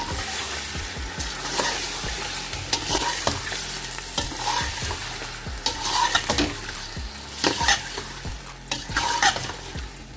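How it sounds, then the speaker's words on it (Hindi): Garlic-ginger paste sizzles in a pot for jungle pulao while a spoon stirs it, giving repeated scraping strokes and clatter over a steady frying hiss, close and fairly loud. "और इसको हम अब भूनने के लिए छोड़ देते हैं"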